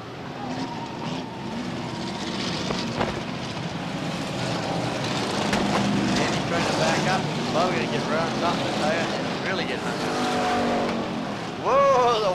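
Race car engines roar at a Beech Ridge Motor Speedway enduro in 1989, a loud, continuous rumble swelling and fading as cars pass, with voices talking over it throughout.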